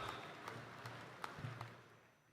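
An audience at a university convocation ceremony gives a round of applause. The scattered, faint claps sound distant in the hall, with a few sharper hand claps standing out before the sound tapers off.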